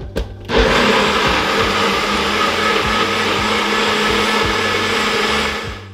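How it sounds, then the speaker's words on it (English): A kitchen blender whirs loudly as it purees ingredients for a home-cooked meal, starting with a quick click and jolt, then holding a steady, dense roar close by for several seconds with no talking. "Let's blend this sucker up, and then we set it to the side while we prepare the rest of our meal."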